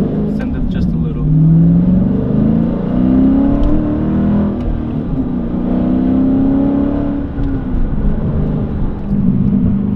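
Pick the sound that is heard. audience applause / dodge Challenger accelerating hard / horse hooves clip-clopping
dodge Challenger accelerating hard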